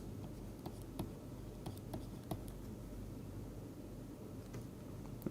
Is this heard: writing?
yes